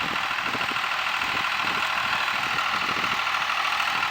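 A tractor engine runs steadily while grading and repairing an eroded farm field, a continuous loud mid-to-low drone with faint mechanical clatter and no voices.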